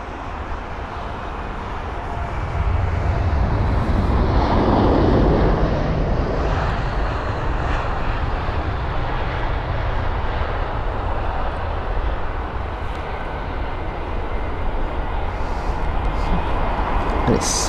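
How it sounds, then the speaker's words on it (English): Tarom Airbus A318 jet arriving at London Heathrow from Bucharest, a broad steady engine roar that swells around the middle and then holds as a loud, continuous rumble. "that was the Tarom arrival from Bucharest"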